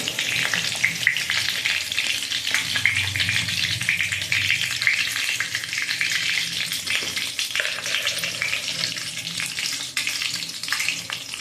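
Eggplant fries in a pan with a continuous crackling sizzle, close and fairly loud, joined by occasional stirring scrapes.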